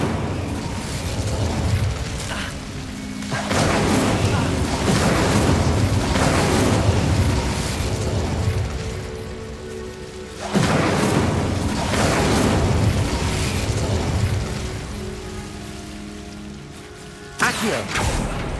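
The Incendio fire spell in Hogwarts Legacy erupts in loud, roaring whooshes of flame that crackle and hiss. Three separate casts come several seconds apart, each fading into a sustained crackle.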